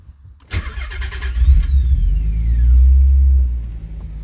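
A car engine cranks and starts up after a moment of quiet, with a short starter whir, then a loud, deep idling rumble that swells and settles, close by and with no talking.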